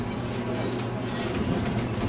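Zoo tour train rolling along at steady speed, a continuous low rumble and rattle of the cars filling the background with faint bird calls above.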